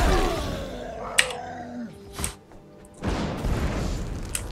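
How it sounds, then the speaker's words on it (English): Cannon fire in the Guild Wars 2 video game: a few deep booms spaced over a few seconds, the last one a longer rumbling blast, fairly loud with no talk over them. "What's that? Cannon."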